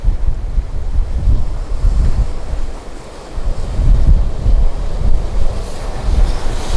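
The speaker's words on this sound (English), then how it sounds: "into the waves." Ocean waves break and wash onto a beach in Greece, a continuous loud roar of surf with rolling surges and strong wind buffeting the microphone, no voices.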